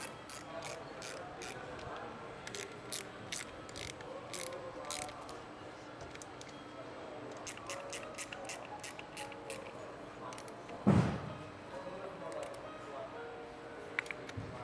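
A ratchet wrench clicks in quick, repeated runs while screws with lock washers are tightened on a Gemmecotti HTM mag drive centrifugal pump during assembly. The clicks are close and crisp, with a few pauses and one heavier clunk near the end.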